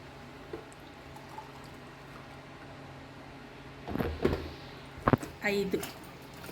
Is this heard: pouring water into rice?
yes